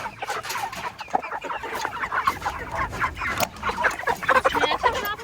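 Cornish Cross meat chickens, seven and a half weeks old, cluck continuously and busily close by, a dense overlapping flock chatter with occasional sharper squawks.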